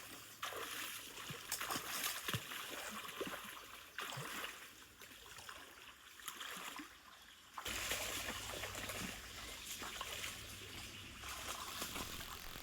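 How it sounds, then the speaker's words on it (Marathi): People wading and walking through water on a hot day, with steady splashing, trickling and sloshing throughout, fairly close and continuous, with no talking. "पाण्यातून चालणं,"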